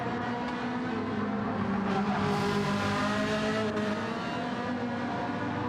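A Ferrari race car at a Ferrari Challenge track event holds a loud, continuous engine roar, its steady pitch rising slightly as it drives on. No one speaks over the noise.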